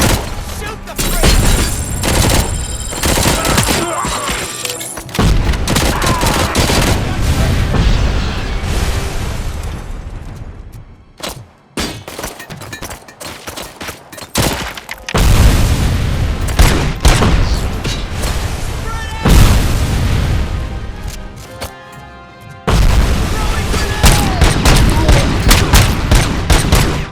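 Gunfire and explosions in Robocop Rogue City: loud, sustained bursts of rapid automatic fire with repeated booming blasts, continuous for most of the stretch with brief lulls, and voices faintly mixed in.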